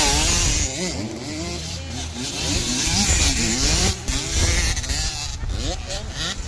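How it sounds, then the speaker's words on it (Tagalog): 85cc racing motorcycles scream past on a muddy track in the rain, their high revving engines rising and falling over an excited commentator's voice. "Grabe yung gulong ng mga motor na to."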